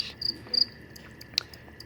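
Crickets kept for breeding chirp in short, bright bursts, three or four quick trills spaced apart, close by and fairly quiet against a faint background hum.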